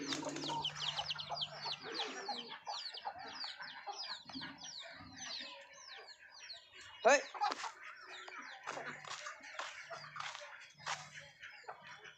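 Birds in a backyard pigeon loft, with chickens kept nearby, make busy overlapping calls, clucks and chirps close up, with one sharp louder call midway and soft rustling and occasional low sounds beneath.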